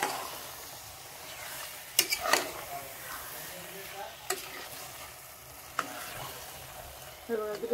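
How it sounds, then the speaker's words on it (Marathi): Mutton sautéing in oil with spices in a pan, a soft steady sizzle with occasional stirring scrapes and clinks, close and unaccompanied by talk. "नाही तर मटण परतून घेते मसाल्यामध्ये."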